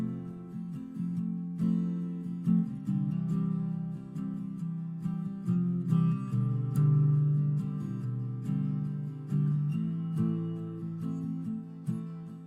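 A reverb-drenched guitar pad with most of the lows and some of the highs cut forms a soft indie song texture, with gently shifting sustained chords swelling and fading across the clip, alone and without speech.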